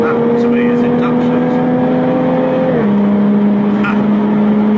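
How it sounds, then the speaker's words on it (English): Jaguar F-Type engine under load, a steady hollow induction drone with a sustained tone that dips in pitch partway through as the car pulls, heard with a faint voice in the background. "That hollow sound, that to me is induction."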